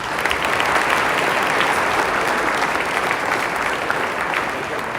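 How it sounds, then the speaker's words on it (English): Sustained applause from the audience at a celebration-of-life memorial service, many hands clapping at full volume without a break, dense and even throughout. "Please give them a round of applause."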